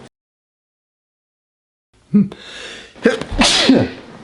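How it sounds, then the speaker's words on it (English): A sudden sneeze breaks the silence after a quiet stretch, followed by a second sharp sneezing burst, close and loud. "Don't want to leave the sneeze in."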